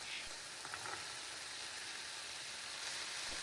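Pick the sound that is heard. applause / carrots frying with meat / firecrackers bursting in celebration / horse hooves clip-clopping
carrots frying with meat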